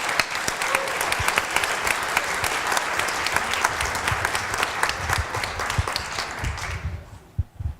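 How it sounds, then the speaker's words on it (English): An audience breaks into loud, sustained applause, dense clapping that fades out near the end. "Could we give all of those people a round of applause?"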